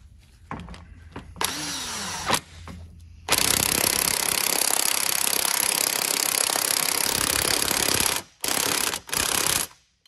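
A cordless impact driver tightens wheel hub bolts on a Corvette C6 ZR1, giving several loud, rattling hammering bursts, one long sustained run and a few short bursts at the end, with a whirring spin-up before.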